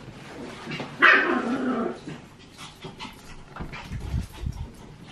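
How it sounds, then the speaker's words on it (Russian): A pet dog in a home, excited and restless, gives a loud burst of barking and yipping that trails into panting and snuffling sounds close by. "Собака с ума сходит."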